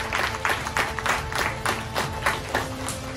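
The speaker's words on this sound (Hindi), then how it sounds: "हाँ, एक बार जोरदार ताली सर के लिए।" An audience breaks into loud, sustained applause at a motivational talk, claps rolling on steadily throughout with no break.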